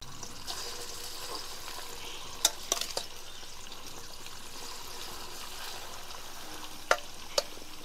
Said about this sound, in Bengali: এবার আমি মাছগুলো ভাজার জন্য কড়াইতে দিয়ে দেবো।